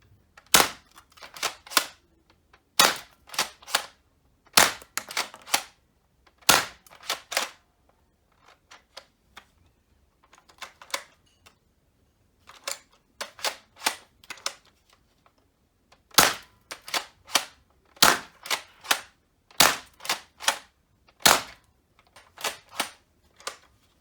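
NERF Elite 2.0 EaglePoint blaster firing foam darts, each shot a sharp close snap, usually with a second click right behind it as the bolt is primed, repeated in irregular bursts and pauses over about twenty-four seconds.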